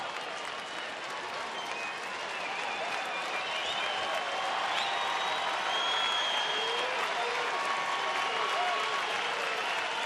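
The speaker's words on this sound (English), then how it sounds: "Crowd trying to get behind Matt Garza, show some support for him and help him find a way to get this final out." A baseball stadium crowd applauds steadily in support of pitcher Matt Garza with two outs and a full count, a dense wash of clapping and cheering with faint whistles and a commentator talking over it.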